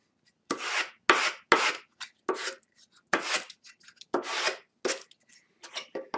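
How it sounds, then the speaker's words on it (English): Sandpaper rubs over small wooden pieces in about a dozen quick, close, separate strokes with short silent pauses between them. "Now I just want to clean up my pieces a little bit with some sandpaper."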